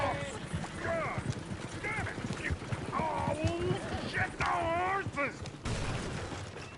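Horse hooves clip-clop in a steady rhythm under overlapping voices and rising whistling or whinny-like tones, busy and fairly loud throughout.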